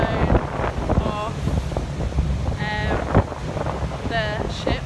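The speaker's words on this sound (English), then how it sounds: "So windy! I'm trying so hard not to get blown off" Strong wind buffets the microphone in loud, rumbling gusts on the deck of a river cruise boat in London, with faint chirping cries and brief voices in the background.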